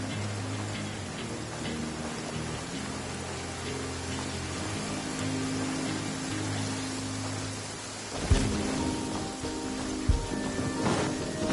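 A steady rain downpour in the Genshin Impact video game patters continuously, with soft ticking drops over a low hum and a few sharper hits near the end.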